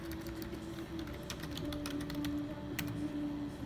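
Rapid typing on a computer keyboard, a steady run of light, close clicks over a low background hum.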